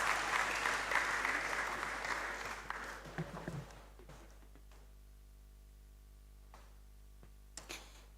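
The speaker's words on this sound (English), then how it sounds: "Please let's receive her with a loud round of applause." A conference hall audience claps loudly, the applause fading over a few seconds into scattered claps and quiet background hum.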